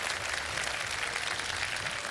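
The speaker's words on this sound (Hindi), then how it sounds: "ऑडियंस अगर तैयार है तो जरा भरपूर तालियों में मुझे अपनी मौजूदगी का एहसास दिलाएं" A studio audience at a live Ramadan iftar TV quiz show breaks into steady, dense applause, a continuous wash of clapping with no talk over it.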